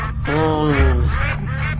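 A duck quacks loudly and close, a short run of nasal, buzzy calls lasting under two seconds.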